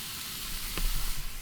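Bacon frying for bacon butties on a lakeside carp fishing trip, giving a steady close sizzle and hiss with a brief louder crackle partway through and no talk.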